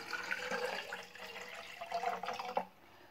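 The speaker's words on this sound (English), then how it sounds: "So first of all, I'm going to pour the water" Water pours steadily into a vase, a close, continuous splashing and gurgling that ends abruptly after a couple of seconds, with no talking.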